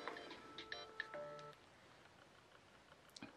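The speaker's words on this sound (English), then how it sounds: "My phone's ringing." A mobile phone plays a quiet electronic ringtone, a brief run of melodic beeps that stops after about a second and a half in an otherwise hushed room.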